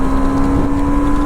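A BMW G310RR motorcycle fitted with a new exhaust is held at full throttle after a downshift, giving a loud, close, steady engine drone with a strong buzzing tone and no talk.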